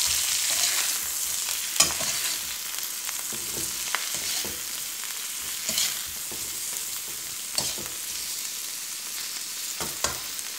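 Cauliflower sabzi with salt and spice powder stirred in a pan, a continuous sizzle under repeated spoon scrapes and occasional sharp knocks against the metal, near and fairly loud, without speech.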